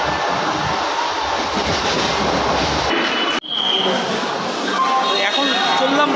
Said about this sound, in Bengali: ব্যান্ডেল থেকে ট্রেন ছেড়ে দিচ্ছে